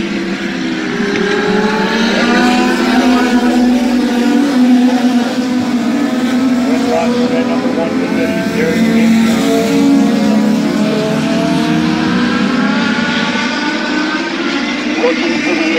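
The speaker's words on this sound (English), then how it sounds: "Bogner with the race lead off of turn number two of the racetrack with Allstock." Legends race cars roar around the Midvale Speedway oval during a feature race, a loud continuous pack of engines droning and shifting pitch, with an announcer talking over the noise.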